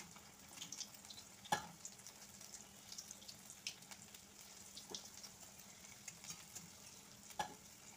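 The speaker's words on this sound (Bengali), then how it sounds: "চিকেন বলের প্রথম ব্যাচ ভাজা হয়ে গেছে" Chicken cheese balls fry in mustard oil in a kadai on a gas stove, a faint, steady low sizzle dotted with sparse crackles and pops.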